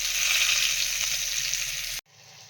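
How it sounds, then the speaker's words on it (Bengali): Potatoes lightly frying in a pan give a steady, loud sizzle for about two seconds, then it drops abruptly to a much quieter crackle. "আলুটা হালকা করে ভেজে নেবো"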